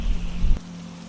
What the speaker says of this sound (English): Outside, the rain had not stopped.